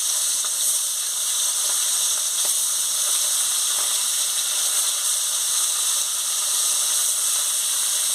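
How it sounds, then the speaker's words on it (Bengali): Sea bhola fish fries in hot oil in a heated pan, giving a steady, loud, continuous sizzling hiss for the whole stretch, with no talking. "আমি মাছটা ছেড়ে দিচ্ছি।"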